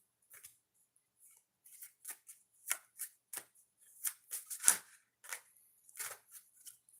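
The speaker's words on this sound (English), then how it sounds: "Shuffle these decks before we hit number 3." A deck of cards is shuffled in quick bursts of crisp riffling and snapping, with short pauses between each burst.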